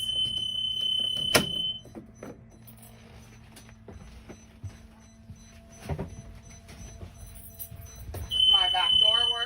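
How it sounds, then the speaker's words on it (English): A school bus emergency back door buzzer sounds during a pretrip inspection, with steady electronic alarm tones and a warbling buzz rising near the end, mixed with door clunks and background cab noise. "the lights and buzzers come on"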